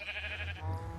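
A sheep bleating in the Minecraft video game, one short wavering bleat heard close and clear, alone without talk.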